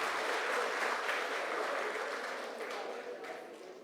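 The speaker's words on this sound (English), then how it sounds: "another warm round of applause to all the winners and the medallions" Steady, dense applause from a large audience at the closing award ceremony of a national skills competition, sustained throughout and fading slightly toward the end.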